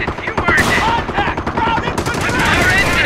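Rapid machine gun fire in the Company of Heroes war video game, dense bursts of sharp repeated shots crackling close and loud throughout, with battle noise and unit voice lines mixed in.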